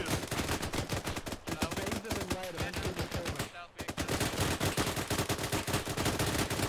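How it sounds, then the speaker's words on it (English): Dense, rapid automatic gunfire in the military shooter game Arma 3, loud and continuous bursts crackling almost without pause, with a brief lull partway through before the shooting resumes. "Oh, I see some kind of gunfire."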